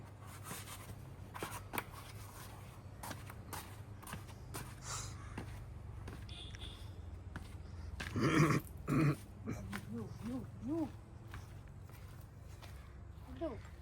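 At a farmhouse, a dog growls and snorts in a brief, close burst partway through, over steady background noise with scattered knocks and faint human sounds.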